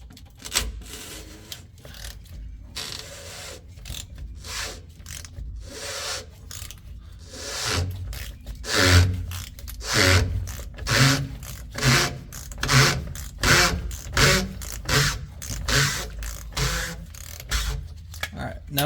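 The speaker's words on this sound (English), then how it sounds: "Now we're gonna go ahead and take off our housing, lefty loosey." A plastic fuel filter housing on a 2012 Ford F250 with the 6.7L engine is turned loose, giving a run of close, rhythmic rasping and scraping strokes after quieter handling noises, while someone talks at the start.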